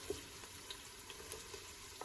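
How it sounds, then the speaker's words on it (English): Quiet, steady sizzling of garlic and shallots frying in hot oil, with faint crackles and small pops. "You can hear it sizzling as well because the pan is already"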